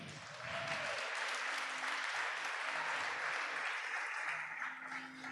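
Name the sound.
congregation applause in church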